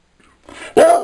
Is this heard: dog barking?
yes